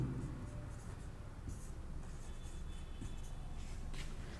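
Writing on a board during a basic electronics lecture gives faint, soft scratchy strokes over a low steady background hum, running for a few seconds with no talk.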